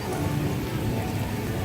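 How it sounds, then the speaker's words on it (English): Heavy rain pours down in Orlando, a dense, constant hiss of drops hitting surfaces, loud and unbroken. "Alright, it's raining bad now."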